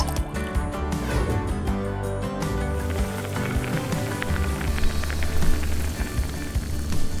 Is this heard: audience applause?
no